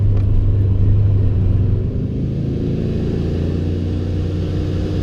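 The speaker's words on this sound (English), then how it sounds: "it sounds like I'm hitting boost cut" Turbocharged truck engine at 30 psi of boost, spinning its tires and hitting boost cut, a loud, steady low rumble with a droning tone that dips slightly partway through.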